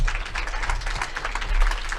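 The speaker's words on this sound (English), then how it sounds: "Give her a big round of applause to help her get up here" Audience applause, a short burst of steady clapping from a crowd, moderately loud and continuous.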